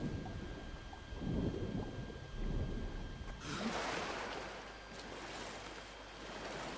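Thunderstorm at sea in the Stranded Deep video game: low rumbling swells and gusty wind early on, then a sharp loud crack of thunder that rolls out into a hissing, stormy wash over the remaining seconds.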